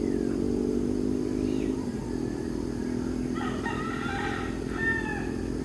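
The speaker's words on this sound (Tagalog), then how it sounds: "Narinig sa umaga yung ganyan. Manok, ibon." A rooster crows in the distance over a steady low hum at a morning van and car campsite, with other birds chirping faintly nearby.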